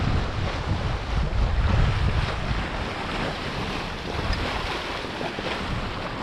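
Sailboat running at about seven knots in a 14-knot breeze, steady roar of wind buffeting the microphone over rushing water and waves, close and loud throughout.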